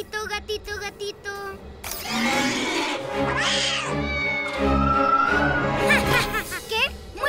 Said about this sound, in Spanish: ¡Otro gatito que asustar!